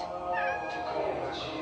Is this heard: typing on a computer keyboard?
no